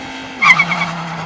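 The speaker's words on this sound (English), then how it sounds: "quickly apply full throttle and quickly release the clutch" A Dodge Viper makes a full launch-control start with the clutch dumped, and a loud, close tire squeal rises over a steady engine drone, dipping in pitch as it sets off.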